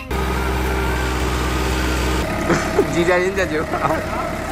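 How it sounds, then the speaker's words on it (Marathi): A tractor engine drones steadily as it is driven in a village, loud and close, while people talk over it. "ट्रॅक्टर चालवणार आहे जे की मला येत नाही"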